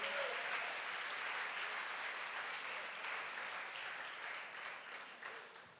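A church congregation applauds in a steady, dense wash of clapping that holds for several seconds and eases slightly toward the end, with no voices rising above it.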